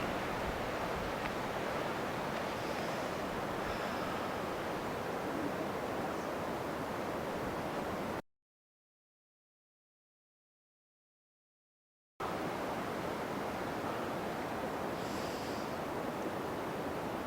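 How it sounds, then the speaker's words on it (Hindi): Steady broadband rush of the Dhauliganga river flowing through a Himalayan valley, a constant roar with a short dropout of silence midway and no voices. "और ये पूरी नदी यहाँ से धौली घाटी"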